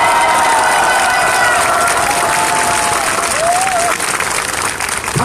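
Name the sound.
crowd applause at a rally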